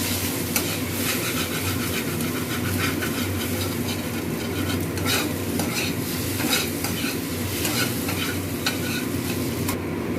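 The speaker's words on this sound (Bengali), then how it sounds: "আর সব সবজিটাকে একটু নাড়বো" Vegetables and egg tossed in a hot pan for chowmein, with steady sizzling and repeated scraping stir strokes running throughout, close and continuous with no talking.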